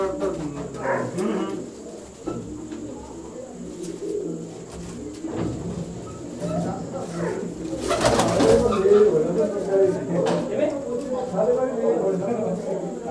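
Pigeons coo repeatedly at close range, soft throaty calls recurring throughout, with someone talking over them most of the time.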